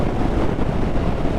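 Strong wind buffets the microphone of a rider on a motorbike, a loud, steady roar with no break and no voices.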